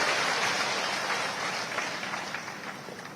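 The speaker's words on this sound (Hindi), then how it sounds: "ष्ट्रपति महोदया श्रीमती द्रौपदी मुर्मू जी का एक बार जोरदार तालियों के साथ अभिनंदन करें" Loud, dense applause welcomes the president at a public event at Mangarh Dham in Rajasthan, sustained and gradually tapering off with no talk.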